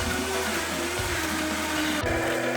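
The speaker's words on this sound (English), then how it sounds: "If you're using a high-speed blender," High-speed blender whirring loudly and steadily as it blends a pumpkin smoothie, a dense continuous motor roar with brief shifts in pitch as the contents churn, with no talking.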